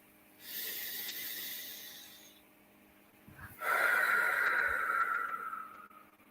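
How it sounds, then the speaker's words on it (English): Two slow, deep breaths during a guided meditation, a long hissing inhale followed by a fuller, louder exhale, close and alone in a quiet room. "Deep breath."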